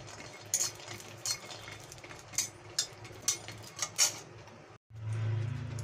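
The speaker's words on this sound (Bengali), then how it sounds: "প্রথমে আমি কড়াই বসিয়ে দিয়েছি, দিয়ে আমি কতগুলো চীনাবাদাম আমি ভেজে নেব।" Peanuts are fried and stirred in an oiled karai. A metal spatula clinks and scrapes against the pan in a quick irregular series of close, sharp knocks, followed by a low steady hum.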